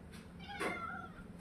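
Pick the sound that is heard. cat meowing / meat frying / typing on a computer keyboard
cat meowing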